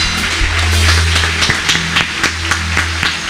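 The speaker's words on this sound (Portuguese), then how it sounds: "E aplauda bem forte ao Senhor." A church congregation claps loudly to the Lord, a dense run of rhythmic hand claps over sustained music, close and steady for the whole stretch.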